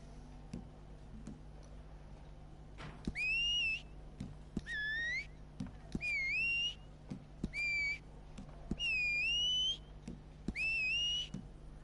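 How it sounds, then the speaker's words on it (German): A character whistles in Red Dead Redemption 2 Online, with about seven separate rising-and-falling tonal phrases, each lasting roughly a second, coming clearly through quiet in-game ambience and occasional soft ticks. "Pfeifen."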